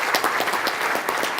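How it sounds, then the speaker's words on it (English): Conference audience applauding, a dense steady patter of many hands clapping at an even level throughout with no voices. "let's give him a hand of applause for doing that"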